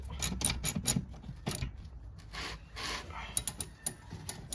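A spanner holds a new brake rotor in place while it is tightened, giving close, quiet, irregular metallic clicks and ratcheting scrapes in short clusters.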